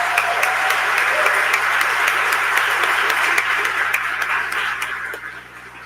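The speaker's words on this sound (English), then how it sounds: "can you please join me in giving them all a very well-deserved round of applause?" Audience applause at the grand reopening of a 60-year-old automotive center, a crowd clapping steadily at close range before fading out over the last second or so.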